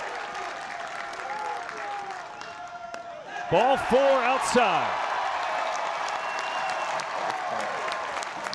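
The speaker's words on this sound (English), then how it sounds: "Probably never be a louder applause for a walk." Stadium crowd at a college baseball game breaks into loud, sustained applause and cheering for a walk, swelling midway and holding steady while a commentator talks over it.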